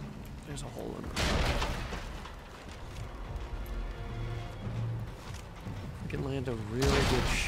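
Sniper rifle fire in the video game Sniper Elite 5, a couple of loud booming shots with rolling echoes amid game noise, while someone talks over them.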